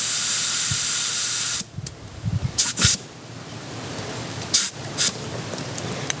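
Air hisses steadily from a motorcycle tire being inflated, loud and close, then cuts off abruptly, followed by a few short bursts of hissing from the valve.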